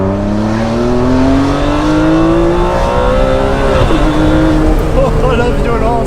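Ferrari 599 GTB with its V12 revving hard and climbing through quick gear shifts, strong rising harmonics broken by sharp changes, heard from inside the car with people talking over the engine.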